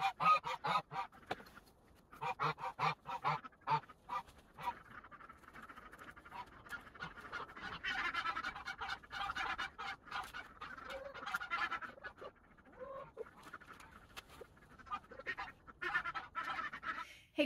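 Geese and chickens kept together in a greenhouse honk and cackle repeatedly at close range, a busy, irregular chorus of calls running throughout.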